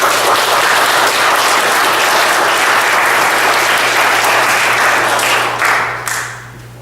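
A church congregation applauds its small choir at a Korean church Sunday service, dense sustained clapping filling the room that holds steady and then tapers off quickly at the end.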